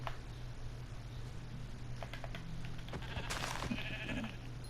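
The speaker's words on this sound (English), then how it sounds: "Yo, come here, sheep." Sheep bleat in a Minecraft-style video game, a couple of short synthetic bleats over a steady background hum and light clicks, with no talking.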